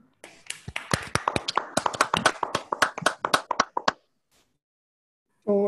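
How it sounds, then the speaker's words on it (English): Scattered individual hand claps from a few online seminar participants for a mathematics lecturer, irregular and close, fading to silence before a brief voice at the end. "We will give a round of applause to Parthanil."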